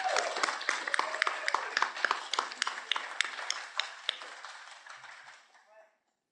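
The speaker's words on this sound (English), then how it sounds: "I think we should all give Abigail a big round of applause." Audience applause after a film screening at a post-screening panel, many hands clapping with sharp individual claps standing out, fairly close, steady for several seconds before fading out.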